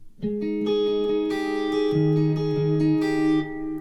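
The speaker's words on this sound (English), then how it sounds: "all I had was a clean sound with the Carbon Copy on" Clean electric guitar notes ringing through a Carbon Copy analog delay pedal, repeating echoes and a few sustained tones trailing into one another, close and steady.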